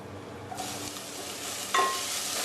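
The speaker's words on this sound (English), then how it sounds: "We'll add in the chopped garlic." Chopped garlic hits hot oil in a pan and starts a steady sizzle. A brief louder burst comes partway through, and the frying then carries on evenly with no talking.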